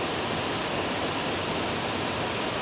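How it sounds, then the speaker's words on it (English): A waterfall in full flow roars as a dense, steady broadband rush of water, constant and loud throughout, with no voices. "That is the waterfall though. It is absolutely roaring this time of year."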